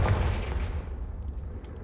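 A Confringo blast spell is cast in Hogwarts Legacy, giving a fiery boom that opens strong and fades into a rumbling, crackling decay, fairly close with no talking.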